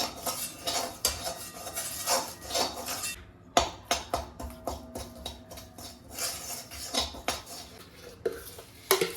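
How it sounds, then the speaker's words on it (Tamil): Wheat flour roasting in ghee for Thiruvaiyaru Ashoka halwa, a metal spoon scraping and clinking against the pan in steady, close strokes with brief pauses, no voices. "அந்த நெய்யில் வந்து கோதுமை மாவு எடுத்து கொஞ்சம் வாசம் வர வரைக்கும் வறுத்து விட்டுக்கலாம்"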